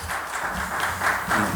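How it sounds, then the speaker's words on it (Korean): A church congregation claps to welcome a pastor, a brief dense patter of hands that stays fairly loud and steady throughout. "우리 박수로 환영합니다."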